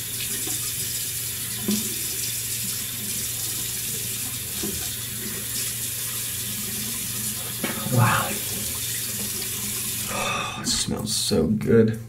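Running tap water splashes into a sink while a face is rinsed by hand, a steady close stream with louder splashes and handfuls of water toward the end.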